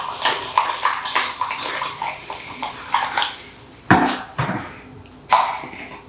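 Water is worked into 4C/4B hair on wash day, heard as close wet splashes and squelches, with two sharper splashy bursts near the end.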